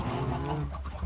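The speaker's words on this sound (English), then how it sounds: "Feeding the chickens some seeds here." Chickens cluck in Minecraft as they are fed seeds, soft short bird calls layered close together over a continuous background.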